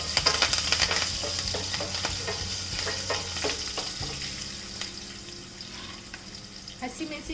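Green chilies and a few curry leaves frying with chana dal in hot oil, giving a close, busy sizzle with scattered crackles that slowly settles and grows quieter.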